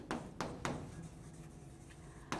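Marker or chalk writing on a classroom board during a biology lesson, a few quick scratchy strokes in a short burst, then a pause and one more stroke, faint and close, without talk.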